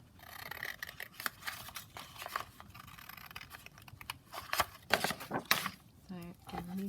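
Scissors snipping around a paper butterfly cut-out for a junk journal, a run of close, crisp cuts and rustles with paper handling, quieter at first and louder toward the end, with a person speaking intermittently.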